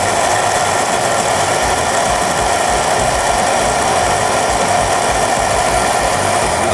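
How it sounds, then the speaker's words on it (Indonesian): A loud electric grinder steadily whirs as it pulverizes glutinous rice and soybeans into powder, with a constant, unbroken, close-up mechanical roar throughout. "Baru kita haluskan sekarang ya. Sampai dia menjadi bubuk."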